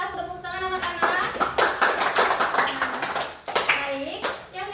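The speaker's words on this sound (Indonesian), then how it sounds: "Terima kasih, tepuk tangan anak-anak." Children in an Islamic studies classroom clap their hands in a close, lively burst of repeated claps, with a teacher's voice and some kids' speech mixed in at the start and end.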